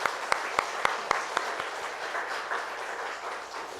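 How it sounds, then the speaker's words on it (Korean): Church congregation applauding during a Sunday worship service, a few sharp individual claps opening into a steady, moderately distant wash of applause that fades gently. "격려의 박수하겠습니다"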